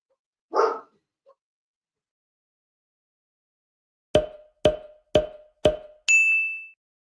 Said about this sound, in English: Can you hear Marty the Wonder Dog in the background